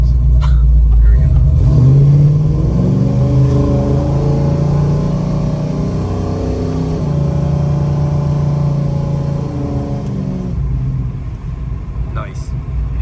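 A 1968 Chevrolet Chevelle with original paint and upgrades rolls along and accelerates, its engine rumbling loud and close from inside the car, with a steady droning roar throughout and people talking over it.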